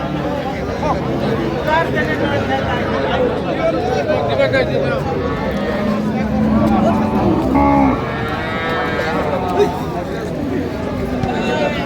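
A cow with her calf lows among a crowd at a cattle market, the moos rising through constant loud chatter and bargaining voices in a busy open setting.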